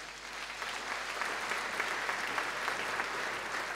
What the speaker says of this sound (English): Another round of applause for our legends